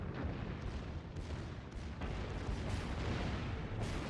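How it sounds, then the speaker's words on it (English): Battleship main and secondary guns firing at close range in World of Warships, Fuso battle: a dense, continuous wall of booming artillery and explosions with repeated heavy blasts, rather distant-sounding and muffled, with no talk. "It's just nice to see battleships this close with the secondaries and primaries going."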